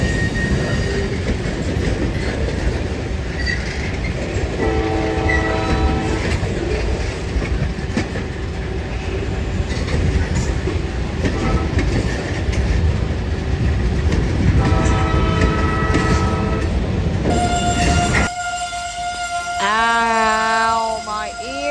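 A train rumbles past close by in Montgomery with a steady roar, wheels squealing, before a loud horn blasts near the end.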